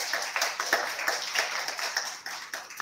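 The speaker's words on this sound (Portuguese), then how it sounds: "uma salva de palmas para eles também" An audience at a Brazilian academic training event claps in a steady patter of many hands, moderately loud and fairly even throughout, without voices standing out.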